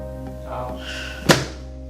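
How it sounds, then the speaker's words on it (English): A drop piece on a chiropractic adjustment table slams down during a football player's adjustment: one sharp, loud thunk near the end, with a soft voice murmuring just before it. "this piece right here is going to pop up, okay? And make a loud bang noise."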